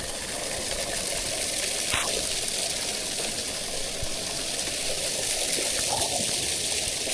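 Hard rain falls in Jamaica as a dense, steady hiss of water that holds even and loud throughout, with no voices and only a faint tick or two standing out.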